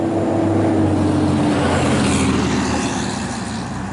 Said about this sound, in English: So I'm going to let that truck go by